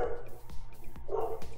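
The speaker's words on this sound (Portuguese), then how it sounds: "Ó, o cachorro acordou." Dog barking during a Magic Arena stream: a few short barks and yips spaced about half a second apart, moderately close, set against quiet background noise with no one talking over them.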